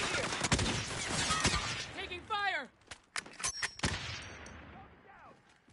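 Sharp gunfire cracks and bursts ring out in a tense firefight, loud bangs scattered among shouting voices, then trailing off into quieter distant shots.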